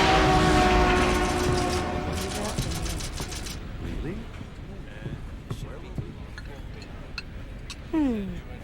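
A train rolls along in the video game Resident Evil 0, with a loud opening rumble and sustained horn-like tones that fade into a steadier clatter under voices.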